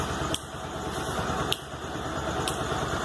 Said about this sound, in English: As you can see, even the engine is on.